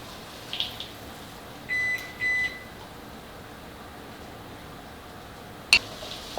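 Kitchen timer beeping while caramel popcorn is cooked on the stove, two short electronic beeps close together, clear against a quiet kitchen background, followed by a brief click.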